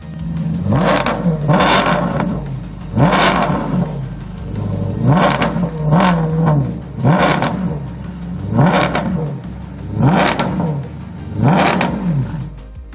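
A Maserati 3200 or 4200 engine revs repeatedly, about eight sharp throttle blips rising and falling in a steady rhythm, with a throaty exhaust roar close by.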